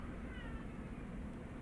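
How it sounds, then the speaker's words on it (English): A house cat meows at a closed door, faint and muffled behind steady low background noise, a short plaintive call. "That's my cat meowing at my door."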